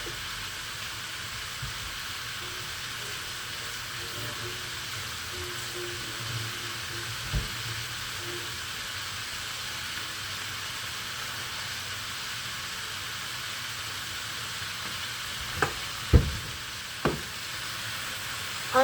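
Peppers for a peperonata calabrese simmer in a pan, a steady soft sizzle and hiss that runs unbroken, with a few faint clicks and knocks near the end.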